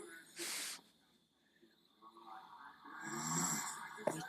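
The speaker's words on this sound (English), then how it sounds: "This is my mummy snoring." A sleeping woman snores, with one harsh, breathy snore early on followed by softer, rumbling breaths, all fairly quiet and close.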